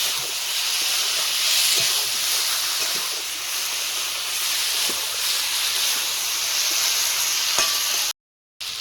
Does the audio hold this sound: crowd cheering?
no